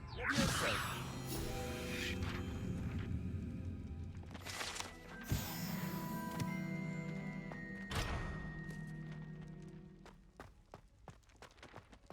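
Spell sounds from a Depulso cast in Hogwarts Legacy, with whooshing magical bursts and bright shimmering tones. Several distinct blasts and swells rise over a steady game soundscape, and the sound fades toward the end.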